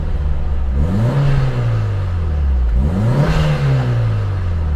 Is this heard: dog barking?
no